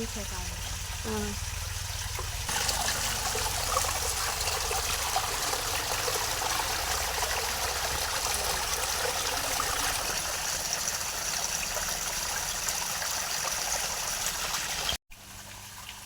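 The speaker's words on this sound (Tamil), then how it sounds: "தண்ணியோட வீடியோ எடுக்கிறேன்" Steady flowing water in a home garden runs continuously throughout, with a voice speaking faintly at the start and a brief cutout near the end.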